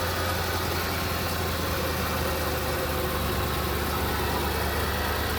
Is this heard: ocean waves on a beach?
no